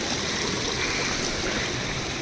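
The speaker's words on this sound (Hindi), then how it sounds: "आपको पानी की काफ़ी ज़्यादा आवाज़ आ रही होगी क्योंकि पानी ज़रूरी है घराट के लिए।" A mountain stream feeding a traditional watermill rushes steadily and loudly, a dense unbroken wash of flowing water close by with no voices.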